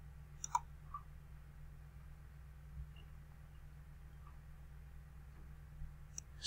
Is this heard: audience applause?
no